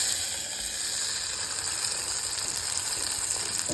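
Eggplant coated in rice flour fries in deep oil, a steady loud bubbling hiss that fills the clip with no pauses.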